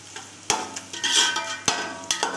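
Browned onions frying in a pan with bay leaf and star anise for aloo tahari, a steady low sizzle broken by a few sharp clinks and scrapes of a spoon against the pan.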